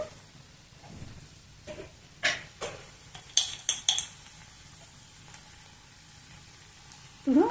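Ginger and garlic fry in hot oil for a potato curry: a steady, close sizzle with sharp clinks and scrapes of a metal spoon against the pan, and no talking.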